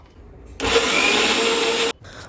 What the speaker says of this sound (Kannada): ಒಂದು ಜಾರ್ಗೆ ಈರುಳ್ಳಿ, ಬೆಳ್ಳುಳ್ಳಿ, ಉಪ್ಪು ಮತ್ತು ಚಿಲ್ಲಿ ಪೌಡರ್ ಎಲ್ಲ ಹಾಕಿ ತರಿಯಾಗಿ ರುಬ್ಕೋಬೇಕು